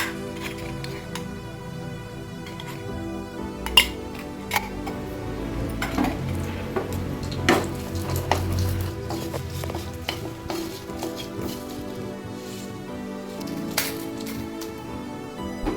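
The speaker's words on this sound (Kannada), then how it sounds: "ಇದಕ್ಕೆ ಸ್ವಲ್ಪ ಎಣ್ಣೆ ಹಾಕಿ ಹುರಿಬೇಕು." Dried red chillies, and then curry leaves, roasting in oil in a pan for a curry leaf chutney powder, with a steady sizzle under repeated stirring scrapes and light metallic clinks of utensil against pan, close and continuous.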